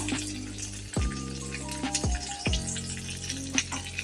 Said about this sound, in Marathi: जिरं, मोहरी तडतडली की कढीपत्ता